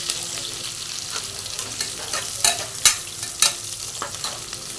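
Onions frying and being stirred in a pan for a mushroom biryani, a steady close sizzle with a few sharp scraping clicks of the spatula near the middle and end.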